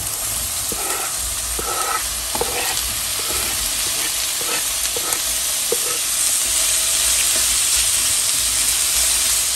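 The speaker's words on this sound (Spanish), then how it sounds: "Vamos a dejar que se frían un poco" Sausages and half-moon onion slices fry in a pan, a steady close sizzle with crackling pops and faint stirring scrapes throughout, no voices.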